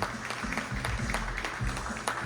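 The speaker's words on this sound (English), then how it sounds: "give a big round of applause for these guys behind the scenes for helping us out here tonight" Crowd applause at the Guadalupe Awards Tejano music ceremony, given for the behind-the-scenes crew, a steady patter of many hands clapping throughout with a faint low murmur underneath.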